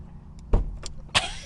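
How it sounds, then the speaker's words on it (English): A Ford F-150 truck door being opened with a makeshift handle: a few short mechanical clunks and a latch click, close and distinct, with no voices. "this is how I gotta open the door"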